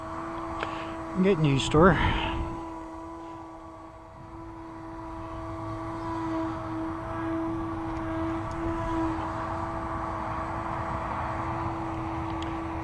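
An electric Brodak P-40B ARF model airplane flies overhead with a steady high motor whine that swells and fades through maneuvers, while someone speaks briefly near the start.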